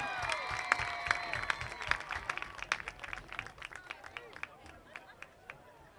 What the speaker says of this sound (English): Please give our 2023 4A state champion senior band members a round of applause as they exit the field.